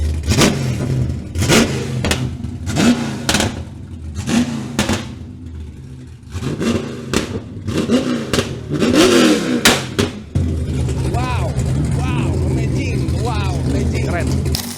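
A tuned drift car with a custom exhaust setup revs hard in bursts, sharp rising roars separated by brief gaps, then settles into a steady loud idle rumble, with people talking over the engine noise.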